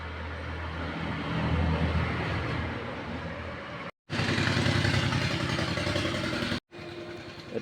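Bajaj Pulsar motorcycle, a 2022-23 model with twin disc brakes, running with a loud, steady engine drone close by, the sound broken by two brief silent gaps.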